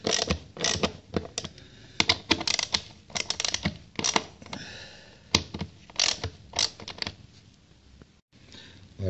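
Ratchet loosening the screws on an engine air filter cover, rapid clicking bursts in quick irregular runs, close and crisp with short pauses between.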